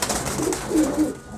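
Pigeons in a breeder's cage give a few soft, low coos, close and brief, against a light background hiss.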